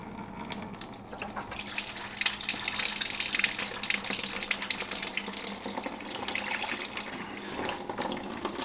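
Coolant drains from the radiator of a Lexus GX470 in a steady, continuous splashing trickle, close and fairly loud with no voices over it.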